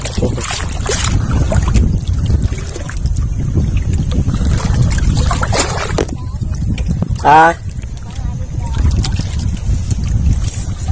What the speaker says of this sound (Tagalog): Malakas ng hangin eh.